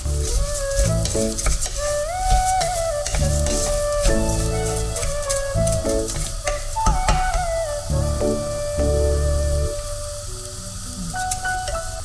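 Food fries in hot oil over a high flame in a home kitchen where ghee rice is being made, with a steady loud sizzle broken by repeated stirring and scraping of a spoon against the pan.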